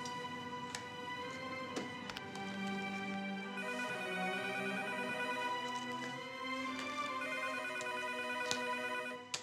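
An office telephone rings continuously with a bright, layered electronic tone that holds steady and fairly loud for several seconds, with no talking.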